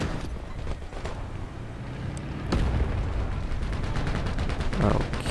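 Tank cannon fire from War Thunder Mobile during a battle in a city, with a sharp blast partway through over a continuous rumble of engine noise and battle sounds.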